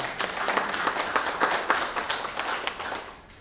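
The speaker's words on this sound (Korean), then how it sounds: "응원의 박수 부탁드리겠습니다" Audience applause at a news outlet's anniversary ceremony attended by lawmakers, a steady crowd of clapping hands sustained for several seconds at moderate loudness, with no talk over it.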